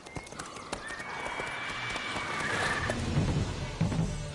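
Roach, the horse in the video game The Witcher 3, gallops with steady clip-clop hoofbeats and a whinny, heard close and moderately loud amid game ambience.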